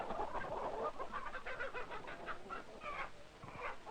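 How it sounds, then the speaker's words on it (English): Chickens on a poultry farm cluck and cackle continuously in a lively, jumbled chorus, a hen's repeated excited cackle after laying an egg standing out over the busy flock. "the hen cackled because she just laid an egg"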